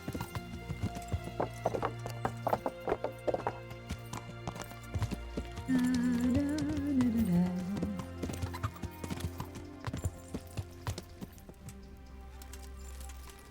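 Horse hooves clip-clop in steady rhythm in the Kingdom Come: Deliverance video game, joined midway by a loud whinny over game music, then the hoofbeats carry on at a moderate distance.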